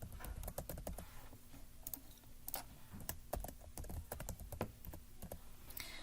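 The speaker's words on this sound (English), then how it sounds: "Once you've typed those in, go ahead and hit sign in." Typing of an ID and password on a computer keyboard, a quick irregular run of close key clicks with short pauses, continuing steadily throughout with no talk.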